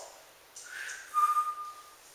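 A single whistled note rising and then held steady for under a second, clear and fairly close, with faint ambient hiss and no talk.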